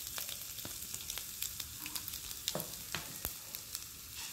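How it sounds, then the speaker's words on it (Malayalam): Mustard seeds crackle and pop in hot oil while kadala curry is being made: a steady close sizzle broken by scattered sharp pops, with no voices. "അപ്പോൾ നമ്മുടെ എണ്ണ ചൂടായി, അതിലേക്ക് കുറച്ച് കടുക്"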